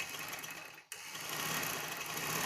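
A sewing machine runs steadily, stitching a seam on a shirt, with a brief stop before the whirring motor resumes loudly and close.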